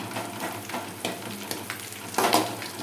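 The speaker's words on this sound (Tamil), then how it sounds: "இப்போ நம்ம அந்த எண்ணெயில் தான் கருவேப்பிலை வறுக்க போகிறோம்." Curry leaves crackling and sizzling in hot oil in a pan, a continuous frying hiss with sharper spitting pops and a louder flare of spattering toward the end.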